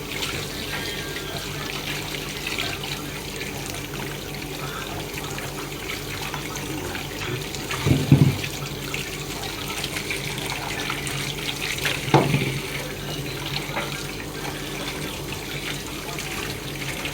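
Hot water runs from a tap in a steady, continuous hiss and splash, close by and unbroken, with two brief louder splashy knocks partway through.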